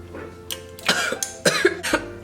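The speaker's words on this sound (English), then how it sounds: "It does make me cough a little bit." A person coughing after spraying perfume, a few short throaty coughs and throat clearing in quick succession, close and fairly loud, with no speech.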